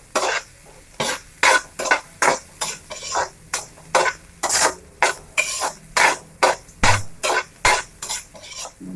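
Garlic sautéing in a pan for chicken tinola, stirred with a utensil in a steady rhythm of about two scraping strokes per second, each with a short sizzling burst, close and fairly loud.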